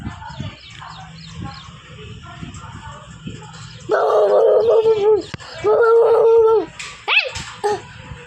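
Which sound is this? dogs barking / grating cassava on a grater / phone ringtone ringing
dogs barking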